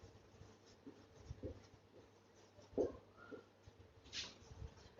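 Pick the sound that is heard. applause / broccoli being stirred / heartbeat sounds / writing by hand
writing by hand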